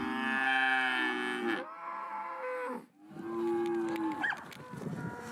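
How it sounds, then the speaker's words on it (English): Beef cattle on a drought-stricken southwest Texas ranch pasture, lowing in long, loud, close moos, one sustained call after another, with a short lull between them and no talking. "We actually have the cattle in a pasture right now that we haven't been in almost a year."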